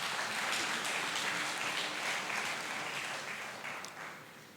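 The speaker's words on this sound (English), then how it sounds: "I think the President deserves a round of applause for that." An audience at a government infrastructure event applauds, a steady wash of clapping from a crowd heard at a moderate distance that slowly fades toward the end.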